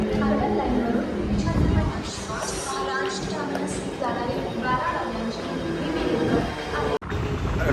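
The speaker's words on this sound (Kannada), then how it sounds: "ಇದು ಸಣ್ಣ ಚಿಕ್ಕ ರೈಲ್ವೆ ಸ್ಟೇಷನ್ ಇದು ಲೋಕಲ್ ಟ್ರೈನ್ ಬಂತ" A local train rumbling and clattering into a small railway station, with people chattering loudly nearby throughout.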